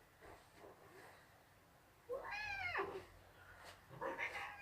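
A pet cat meows close up, one clear drawn-out meow in the middle followed by a shorter second one, with quiet murmuring and soft background noise before it.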